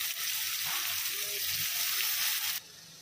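Eggplant mash for baingan bharta hits a hot pan with garam masala and spices, giving a steady broadband sizzle that holds for a few seconds, then drops abruptly to a quieter fry.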